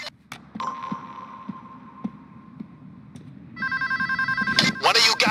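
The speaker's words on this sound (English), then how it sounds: "One of you guys answer the phone and pass me through." Bank telephone ringing in the heist game Payday 2, a steady electronic ring pulsing close and loud after a sustained tone, with game sounds and a voice underneath.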